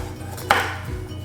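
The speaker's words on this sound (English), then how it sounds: "I'm just gonna give these a really rough chop" A knife gives pecans a rough chop on a board: one sharp, close strike, then a softer second tap, over a quiet kitchen background.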